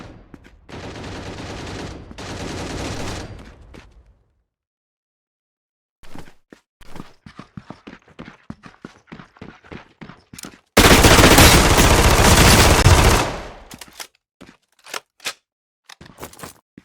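Gunfire in the low-poly extraction shooter Outlawed: a sustained automatic burst, then scattered single and rapid shots after a pause, followed by a loud dense volley and a few final shots, close and punchy.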